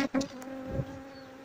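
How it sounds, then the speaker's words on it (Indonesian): Bees buzz close by at a hive built inside an old car tyre, a steady insect drone with a few louder passes of individual bees, faint overall. "Dan lebahnya ini bersarang di bekas ban mobil."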